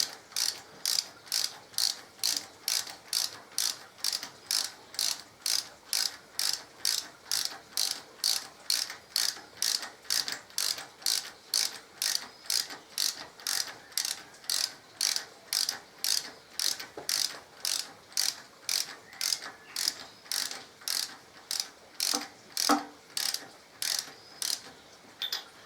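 Ratchet turning spark plugs on a 2014 Harley-Davidson Electra Glide, a long run of steady, evenly spaced clicking strokes close up, about two per second, with faint metallic taps in between.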